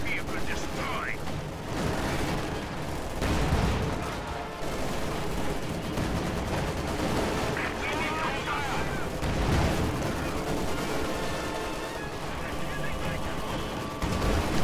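Repeated anti-tank gun shots and explosive gunfire in a WWII strategy game battle, with a Panzer IV taking hits. The booming reports and dense combat noise go on steadily throughout, mixed with game background sounds.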